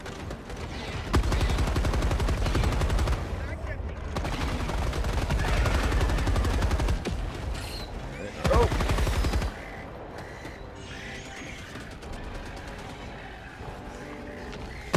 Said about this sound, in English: I just want to see what this turret does.